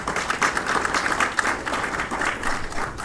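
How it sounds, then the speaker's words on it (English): Audience applause at the Akademyang Filipino general assembly, welcoming Conchita Carpio Morales to the podium; a steady, moderately loud wash of many hands clapping in a hall, fairly even throughout without voices. "please give a round of applause to Conchita Carpio Morales"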